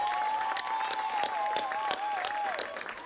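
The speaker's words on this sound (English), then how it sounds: "give him a big hand of applause" A groundbreaking-ceremony crowd at a tennis and learning center applauds Coach Demisa, steady clapping filling the clip alongside a sustained whistle-like tone, no one speaking over it.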